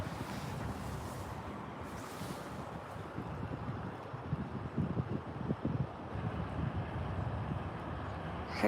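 Steady wind blows and rushes across the microphone at a planespotting spot at Calgary airport, a moderate continuous roar with a few stronger gusts toward the end.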